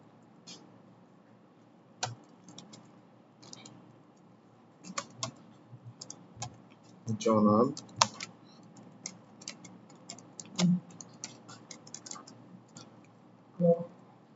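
Typing on a computer keyboard while entering text in MS Word, with irregular clusters of light key clicks and a few heavier keystrokes, close and fairly quiet, with no talking.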